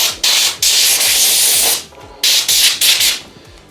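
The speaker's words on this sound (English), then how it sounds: "I'm going to blow all the chaff out the way." Quick, close, loud bursts of air blown to clear drilling chaff from a freshly drilled hole in a Formula Ford race car during wiring work, coming as several hissing gusts of uneven length with short gaps between them.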